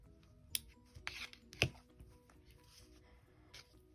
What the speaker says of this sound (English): And then I'm just going to cut that off.